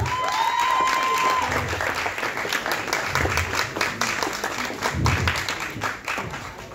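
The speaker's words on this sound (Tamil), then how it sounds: "பெரிய கைத்தட்டல் கொடுக்கலாம்." Audience applause fills a hall at the teaser launch for the Tamil film Bad Girl as the editor is called to the stage, steady clapping throughout with a brief whistle early on and some crowd murmur.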